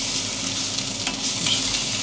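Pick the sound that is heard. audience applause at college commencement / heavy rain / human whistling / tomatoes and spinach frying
tomatoes and spinach frying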